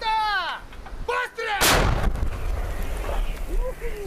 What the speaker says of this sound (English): They are firing 152mm howitzers.